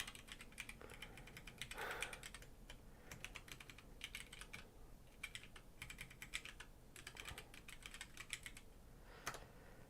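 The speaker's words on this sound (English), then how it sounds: "let me show you how I type" Someone types on a computer keyboard, fast irregular bursts of quiet clicky keystrokes with short pauses between runs, close but faint and with no talking.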